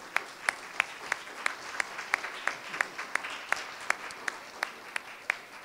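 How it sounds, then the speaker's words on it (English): Sparse, fairly quiet clapping at a school board candidate forum, a few distinct hand claps at an uneven pace rising over a soft room background rather than a full ovation. "Let's give Ref Rodriguez a big round of applause as well"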